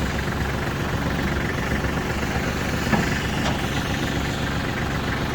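A Kubota GL260 mini tractor with a front loader and rotary tiller runs at a steady idle, its engine chugging close and loud throughout with no talking.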